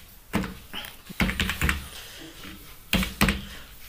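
Computer keyboard keys clatter in short bursts of quick taps separated by pauses, close and distinct, as a captcha is typed in.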